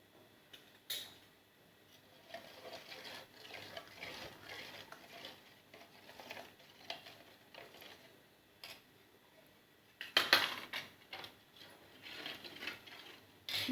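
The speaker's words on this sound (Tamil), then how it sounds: "நல்லா யூனிஃபார்மாக கரைச்சிக்கோங்க. இந்த மாதிரி கட்டி இல்லாமல் கரைச்சிக்கோங்க." Chili-spice batter for brinjal fry is stirred in a bowl, heard as faint, close, repeated scraping and soft clicking strokes, with a louder clatter near the end and no talking.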